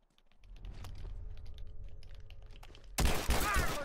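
Gunfire from 9mm pistols in The Last of Us multiplayer, a quiet stretch of faint game ambience and clicks before a loud burst of close shots near the end.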